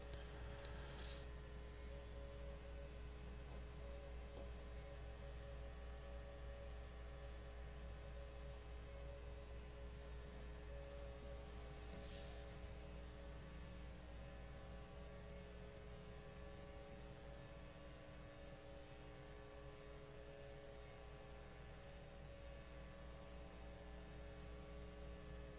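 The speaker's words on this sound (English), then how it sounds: "That buzz means that we are listening. We're not going to miss any traffic on the scanners," Radio scanners monitoring fire radio traffic during the Los Angeles wildfires give off a steady, faint electrical buzz that continues unbroken with no talk.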